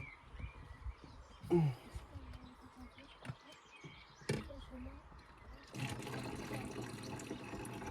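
A bottle being filled with drinking water from a tap outdoors, with scattered knocks and faint bird chirps before a steady rushing pour starts near the end and continues.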